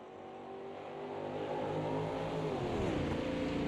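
A Brazilian StockCar race car approaches and passes close by, its engine note rising steadily in volume and pitch, then dropping as it goes by, with no talk over it.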